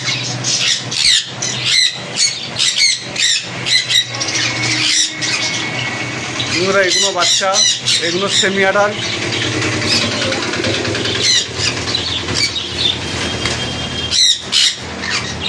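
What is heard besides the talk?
conure parrots squawking in a bird shop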